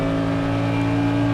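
Race car engine at Circuit of the Americas holding a steady, loud drone with strong harmonics and no clear revving swells, close up as if heard from inside the car.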